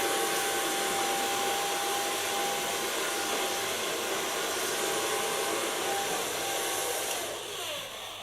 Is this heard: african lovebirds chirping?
no